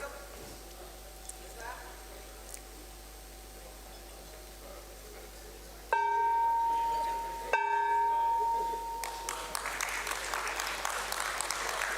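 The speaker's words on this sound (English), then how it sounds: "ladies and gentlemen, huge round of applause." Applause from an audience at a BSE SME stock exchange listing ceremony for MethodHub Software Limited rises in the final few seconds, following a steady electronic hum and tones in an indoor hall.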